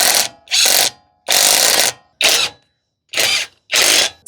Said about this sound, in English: I'm now going to be using a breaker bar with a 10mm Allen on it